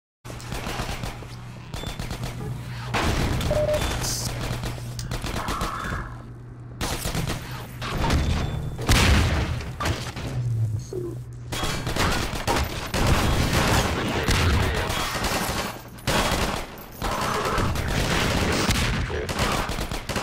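Rapid automatic gunfire and booming rocket blasts in Half-Life 2: Episode One, loud bursts coming in clusters with brief pauses over about twenty seconds, and a steady hum underneath.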